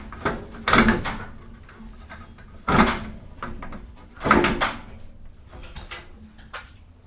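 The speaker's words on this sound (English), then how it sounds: "This is a telescoping divider. And then it pulls over and clip it in here." Telescoping divider in a 2027 4-Star four-horse head-to-head gooseneck trailer being pulled over and clipped in: three loud metallic clunks and rattles spaced a couple of seconds apart, with lighter clicks between, close by.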